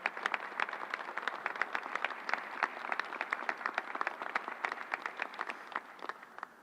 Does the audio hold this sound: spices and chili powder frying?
no